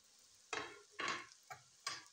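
A tablespoon of garlic-ginger paste fries in a pan for dhaba-style spinach and chana dal. Four short, quiet scraping stirs each bring a brief sizzle, with near-silent gaps between them.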